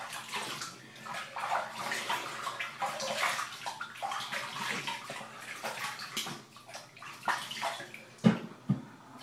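Water runs from a bathroom tap and splashes as a man rinses his face after shaving with a Merkur Futur razor, uneven close sloshing and gurgling, ending with a couple of sharper splashes.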